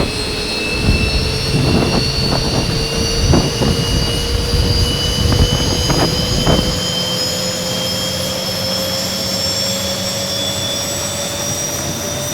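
A Boeing 737 jet engine in the X-Plane 11 flight simulator spools up at start, a steady rising whine with high tones climbing in pitch, and several clicks and thumps sounding over the hum early on.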